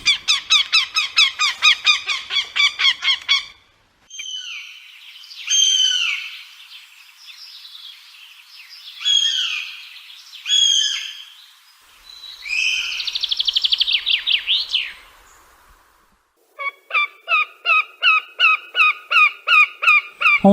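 A northern goshawk calls in loud, rapid runs of sharp, repeated notes, broken by a stretch of varied, squeaky calls, with silence between the bursts.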